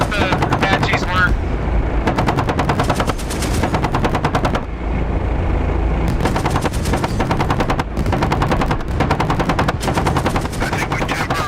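Apache helicopter cannon fire in the combat flight simulator DCS World, loud rapid bursts of automatic gunfire repeating across the clip, each burst a few seconds long with short gaps, over a constant engine rumble and occasional radio voices.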